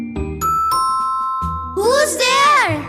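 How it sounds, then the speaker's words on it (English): A two-tone doorbell chimes twice, then a voice breaks in with a high, excited cry. "Suddenly, the doorbell rings."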